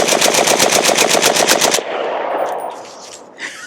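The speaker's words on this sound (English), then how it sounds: "let's go ahead, if we can go to a whole mag here without stopping and see if it continues running." A rifle fitted with a Diablo trigger empties a whole magazine in a loud, rapid burst of about a dozen evenly spaced shots lasting nearly two seconds, then stops abruptly into fading echo and faint rattles.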